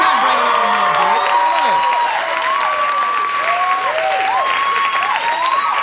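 A late-night talk show studio audience claps and cheers loudly and continuously, with whoops and hollers riding over the sustained applause throughout.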